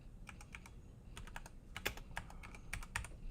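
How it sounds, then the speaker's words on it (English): Quiet, uneven clicking from keys being typed on a computer keyboard, in irregular bursts with brief pauses and no talk over it. "As I'm typing it in."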